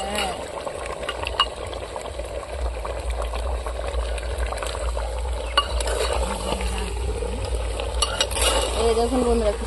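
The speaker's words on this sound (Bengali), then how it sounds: "মাটির হাঁড়িতে খুন্তি দিয়ে নাড়া যায় না, ওই জন্য হাতা দিয়ে নাড়ছি" Chicken fries with whole spices in a clay pot while a ladle stirs it, giving a steady close sizzle with intermittent scraping and clinking throughout.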